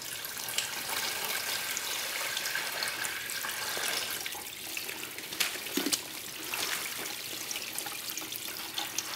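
Water poured from a bucket onto natural grass for a percolation test, a steady close splashing rush that wavers in intensity and ends with a few small spatters, nobody speaking.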